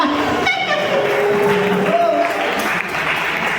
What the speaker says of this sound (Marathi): सर्वांनी सगळ्यांसाठी आपापल्या स्वतःसाठी एकदा जोरदार टाळ्या वाजवा